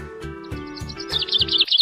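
A parrot squawk sound effect in a children's alphabet phonics song: bright, rapid bird chirps rise over the melodic backing music near the end, repeated in quick succession.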